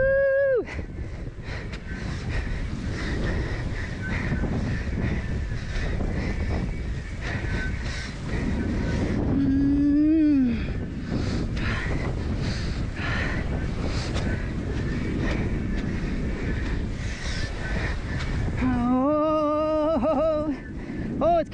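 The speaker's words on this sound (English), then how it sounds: "Oh, it's getting windier" Strong wind roars steadily over the microphone while paddling an outrigger canoe out on open ocean waves, with water sloshing beneath and a few brief whistling tones cutting through the constant gusty rush.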